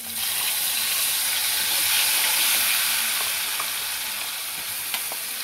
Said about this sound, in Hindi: और अब मैं लहसुन, प्याज और टमाटर का पेस्ट डाल देती हूँ इसमें।